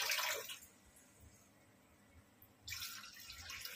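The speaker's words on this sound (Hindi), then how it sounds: "और एक गिलास पानी डालने वाली हूँ।" A glass of water is poured into a pan of egg curry gravy, heard as two soft, hissy bursts of pouring at the start and end with a quiet pause between them.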